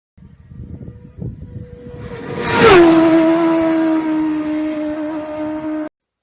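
A Superstock racing motorcycle at the Isle of Man TT approaches and passes close by at speed, its engine note swelling to a loud scream, dropping in pitch as it goes past, then holding a sustained whine before cutting off.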